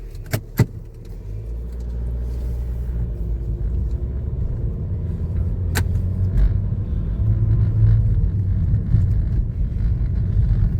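A car drives along a mountain road in Spiti, its engine rumble steady and close inside the cabin, with a couple of sharp knocks early on and road noise building slightly toward the end.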